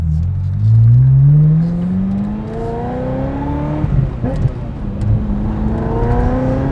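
A Ferrari 355 GTS engine revs while driving, rising through the gears with a loud, close, rising whine and rumble between shifts.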